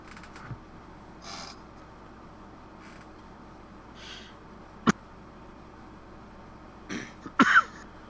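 A few short coughs and a throat clear break through a quiet room during an online game session, isolated sharp bursts with one near the middle and a cluster toward the end.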